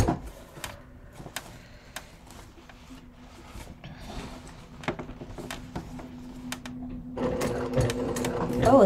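A sewing machine stitches a leather crossbody bucket bag with its tension set a bit tight, giving rapid close mechanical ticking in short runs that grows louder and busier toward the end, with a voice briefly talking.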